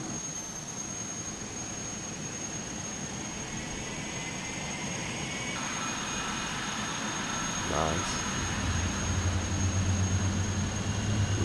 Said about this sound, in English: Engines are starting up.